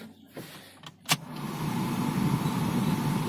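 A Maruti Suzuki Alto LXi petrol car has its heater switched on. A few clicks come first, then a steady, fairly loud blower hiss and rumble rises and holds through the rest of the clip, with no talking.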